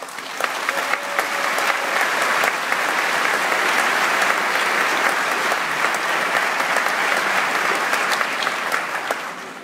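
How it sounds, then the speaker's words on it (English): Sustained audience applause at a 2019 high school commencement ceremony, dense even clapping from a large crowd in a hall, steady for about ten seconds. "applause"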